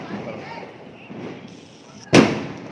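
One loud, sharp bang of a Diwali firecracker bursts nearby after a stretch of low background rumble, with a short fading tail.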